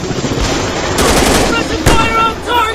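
Dense automatic gunfire in a commando shooting game, a loud continuous rattling stream of shots heard up close with game noise mixed in.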